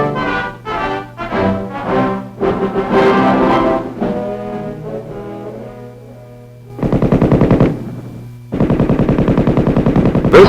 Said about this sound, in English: This is the machine gun